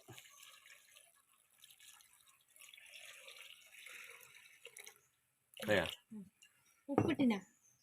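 Water trickles and splashes into a curry pot holding chili powder and salt at a moderate level, followed by two short bursts of nearby talking.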